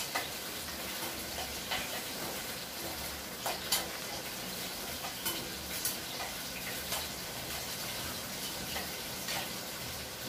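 Ingredients for gongura chutney fry in hot oil with a steady close sizzle, broken by scattered crackles and pops throughout. No one speaks.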